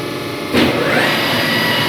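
A CNC lathe spindle on a 6R11F3 machine starts up with a sudden rising whir, then settles into a loud steady mechanical hum of the running program, close and without talk.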